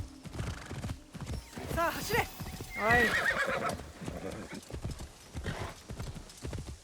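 Hooves clip-clop steadily and a horse whinnies loudly in the video game Assassin's Creed Shadows, with someone talking over the sounds.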